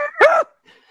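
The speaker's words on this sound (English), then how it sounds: "That's my dog." A dog gives a single short, strained yelping bark that bends into a whine, loud and close, followed by near silence.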